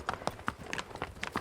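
Hooves of registered quarter horses and American paint horses on a high-country trail ride at a Montana ranch, a few uneven clip-clop steps sounding close and fairly quiet, with no talking.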